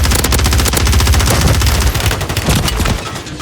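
Dense, continuous automatic gunfire from Call of Duty Warzone ranked Resurgence on Rebirth Island, loud and close with rapid rattling bursts layered over one another throughout, tapering slightly near the end; no voices.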